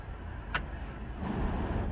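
An old car engine, with a dizzy cap and distributor suspected as the fault, cranks and tries to start, giving a brief burst followed by a low, rising mechanical churn, fairly faint and without speech.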